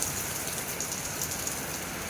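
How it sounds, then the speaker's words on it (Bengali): Heavy rain pouring outdoors at Udaipur beach, a dense, steady hiss of downpour with scattered pattering drops, even and unbroken over a couple of seconds. "খুব জোরে বৃষ্টি পড়ছে"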